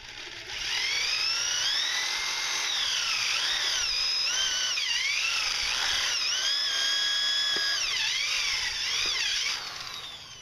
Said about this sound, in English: for me this is just easier to go ahead and drill a hole in here first